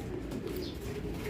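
Racing pigeons coo softly and continuously at close range, a low steady murmur with no talking.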